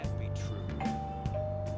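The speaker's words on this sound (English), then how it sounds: "Even after ringing the doorbell, it doesn't look like anyone will answer the door." Doorbell at a house in the video game Persona 5 Royal chimes with a sustained electronic tone over a humming game soundtrack, with a voice talking over it.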